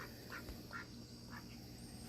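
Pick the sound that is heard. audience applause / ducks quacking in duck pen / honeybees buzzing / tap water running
ducks quacking in duck pen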